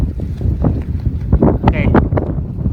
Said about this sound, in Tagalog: Malamig na, mahangin, malakas sa hangin.